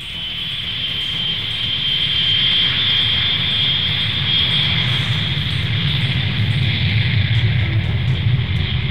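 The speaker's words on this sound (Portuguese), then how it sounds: "assim que o avião decola" Air Florida Flight 90 jet airliner taking off in snowy conditions, a loud, steady engine roar with rumbling low end and a high whine, building slightly and holding throughout, alone with no talk.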